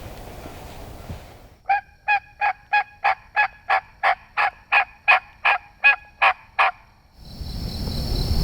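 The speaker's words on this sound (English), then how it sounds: "he's gobbling his head off" A wild turkey calls from a roosting area on Mississippi public land, giving a run of about fourteen loud, evenly spaced calls in quick rhythm. Quiet breaks surround them, with a soft rustle or breeze before and after.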